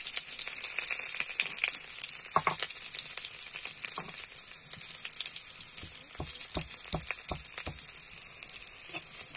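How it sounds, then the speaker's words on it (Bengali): Chopped onion and garlic frying in a wok give a steady, close sizzle throughout, with a run of sharp spatula knocks and scrapes in the middle and later part. "পেঁয়াজ আর রসুন কুচি দিয়ে দিয়েছি, ভালো করে ভেজে নেব।"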